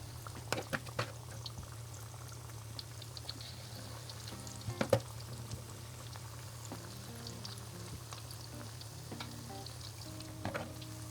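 Four onion bhajis frying in oil in a pan give a faint, steady sizzle with a few soft crackles and pops, with low background hum and no talking.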